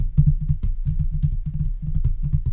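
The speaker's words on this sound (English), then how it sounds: "or when I'm just tapping on my desk." Fingers tapping on a desk in a room, picked up by an Audio-Technica AT2020+ USB microphone: a fast, uneven series of close, dull knocks, fairly loud and without speech.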